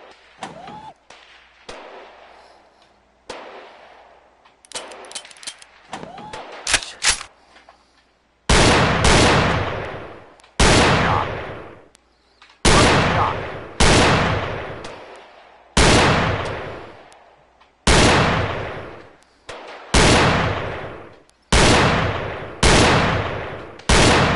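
Video game gunfire: scattered sharp shots and short bursts at first, then a series of loud, heavy blasts each with a long decaying tail, spaced about two seconds apart, close and dominant.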